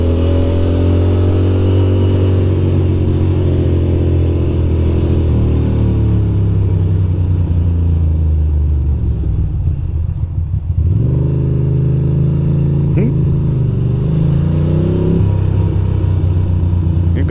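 A Ducati Monster 620 motorcycle ridden around a city block in New York on a freezing day, its engine loud and close, droning steadily, dipping briefly as it slows, then revving back up with rising pitch.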